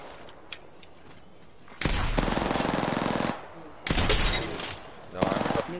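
Automatic gunfire rattles out in three loud, close bursts in a ranked online shooter game, each lasting about a second or more, with quieter game noise and a few faint voices between them.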